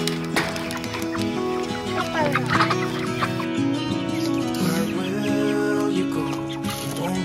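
A young flock of chickens clucking outdoors, with irregular soft clucks and chirps scattered over a constant low tonal hum, plus some rustling and a few brief higher calls.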